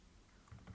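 Brief, faint burst of computer keyboard typing, a few soft keystrokes clustered near the end with no voices.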